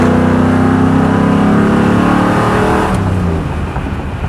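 A 1955 Buick Roadmaster with a modern crate motor accelerates hard, a loud, close engine roar climbing in pitch for about three seconds before easing off.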